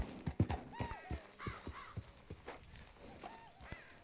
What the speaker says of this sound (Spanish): ¿Sabes cómo frenar el caballo?